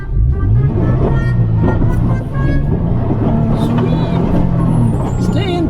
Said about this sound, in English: This is some serious snow driving here now.